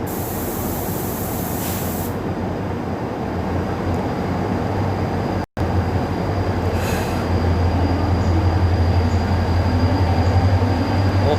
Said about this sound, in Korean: 어디선가 빛을 보이고 진입한 열차가 오고 있는데, 어, 바로 저 열차네요